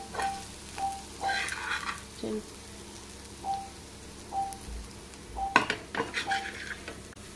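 Boti (goat tripe) fry sizzles in a pan on the stove while a spoon stirs it, with a steady frying hiss and repeated scrapes and clinks of the utensil against the pan.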